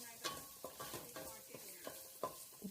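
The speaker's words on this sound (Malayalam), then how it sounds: "സവാള ഇട്ടു ഒന്ന് വഴറ്റി കൊടുക്കാം" Onion sautéing with ginger garlic paste in hot sunflower oil, a spoon scraping the pan in about eight quick strokes over a soft sizzle, quiet and close with no talk.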